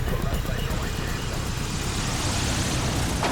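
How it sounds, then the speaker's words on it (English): An airplane on its landing approach to the runway, flying slowly near stalling speed during an emergency landing after a landing gear failure, gives a steady, loud broadband engine roar that holds without a break. "The aircraft finally makes its landing approach, with the pilot slowing to almost stalling speed to get the plane onto the runway as gently as possible"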